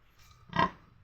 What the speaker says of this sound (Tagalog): Tingnan po natin yung mga baboy nila dito